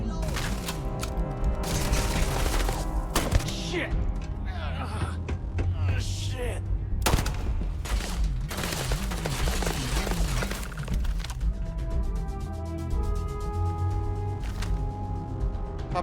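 Gunfire in the sci-fi video game Starfield, with dense repeated shots and booms over constant game sound and music, while a player talks and shouts over the action.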